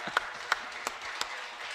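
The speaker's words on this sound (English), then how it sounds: "We need to clap on that." Audience applause at a live bar-and-grille event, a thin, scattered clapping with four sharper claps standing out at a slow, regular beat, moderately close with no talk over it.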